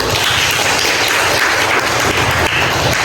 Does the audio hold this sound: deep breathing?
no